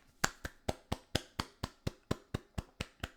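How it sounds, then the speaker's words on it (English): A small round of hand clapping: about a dozen crisp, evenly spaced claps at a quick steady rhythm, close and fairly quiet, with no talking. "I give you a little small clap."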